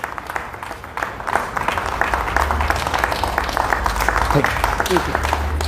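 Steady, dense applause from an assembled audience honouring a colleague at an LIC employees' gathering, a continuous wash of many hands clapping for several seconds with a low hum underneath.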